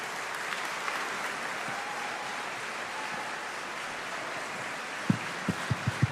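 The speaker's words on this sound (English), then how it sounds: "Another round of applause, please, for Anthony Alozi." Audience applause at the opening of an IAEA staff association ball, a soft steady patter of many hands heard from a distance, ending in a few sharper close claps.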